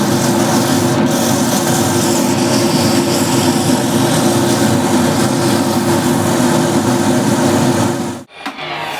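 A loud, continuous whirring drone of a lathe with sandpaper rubbing against spinning wood, steady throughout, then the sound drops off sharply near the end.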